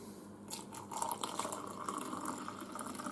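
Milk poured into a mug of Cadbury Oreo hot chocolate, a steady soft liquid stream with faint splashing, fairly quiet and close, with no talking.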